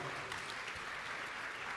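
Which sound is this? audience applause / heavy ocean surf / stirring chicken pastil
audience applause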